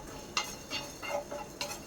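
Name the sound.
coriander seeds dry roasting in pan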